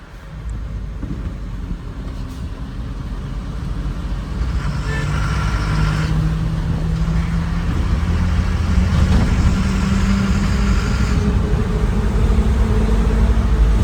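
A truck engine drones steadily in fourth gear while the vehicle makes a big turn on the road, a low continuous rumble that grows slightly louder partway through, with faint road and cab noises on top.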